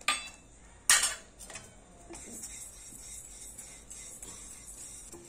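Yellow moong dal dry roasts in a pan, opening with two sharp metallic clanks, then a faint continuous rustle and light scraping as the grains are moved about, with no talk.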